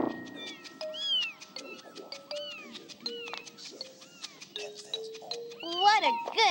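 A cartoon mama cat in the video game Amanda the Adventurer 2 meows repeatedly, a string of bright, rising and falling cries mixed with game music and speech.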